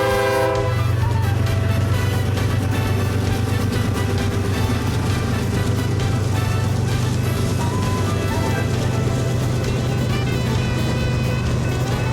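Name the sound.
BNSF freight train with horn, Dash 9 locomotives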